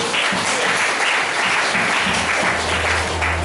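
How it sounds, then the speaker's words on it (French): A church congregation claps together during a revival service, steady dense applause filling the room with a low hum of instruments beneath. "Nous applaudissons ici ensemble."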